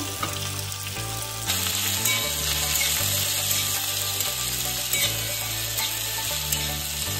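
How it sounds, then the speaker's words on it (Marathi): Okra sautéing in hot oil with mustard seeds and cumin, a continuous loud sizzle with crackling and occasional stirring scrapes, steady throughout, with background music underneath. "त्यानंतर आपण यात भेंडी टाकून घेऊ आणि भेंडी छान परतून घेऊ।"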